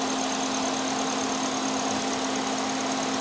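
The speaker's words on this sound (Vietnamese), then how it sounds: "em đề máy lên cho anh chị cùng xem ha, về động cơ khoang máy của em này" A Toyota Vios E sedan idles with the hood open, a steady, smooth hum with a constant tonal drone, close and even from start to finish, and no voices.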